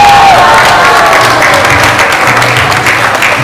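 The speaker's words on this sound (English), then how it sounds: "Let's give him a round of applause" A crowd at a 20th-anniversary corporate event applauds a magician's act with loud, sustained clapping and some cheering, filling the whole stretch without a break.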